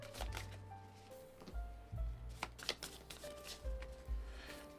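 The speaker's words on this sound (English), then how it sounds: "let's give these a shuffle" Cards from the Verdant board game being shuffled by hand on a tabletop, a series of close riffling bursts with soft taps between them, no talking.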